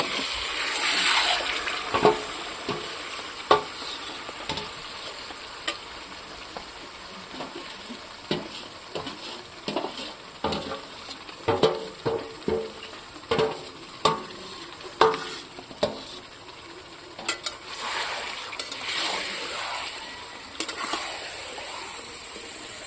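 Marinated chicken for biryani fries in its own oil with no water added, sizzling steadily while a spoon scrapes and clatters through the pan in frequent bursts, close and without speech.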